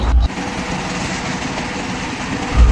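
A steady low mechanical drone of a trawler boat engine near the Sundarbans, chugging continuously and fairly loud, with no voices.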